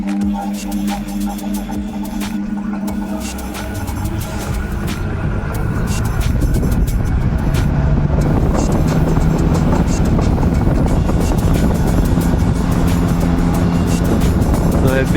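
An air cooler's fan motor whirs up and then blows steadily, a broad rushing hum of moving air with clicks and knocks near the start.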